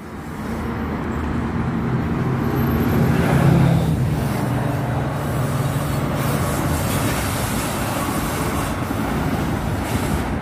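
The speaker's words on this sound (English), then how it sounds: "Exo train 18, 16, if I'm not mistaken. Heading towards Mont-St-Hilare." Exo commuter train rolling through a CN rail yard toward Mont-St-Hilaire: a continuous rumbling roar of wheels and cars at moderate distance, swelling slightly midway, with no talk.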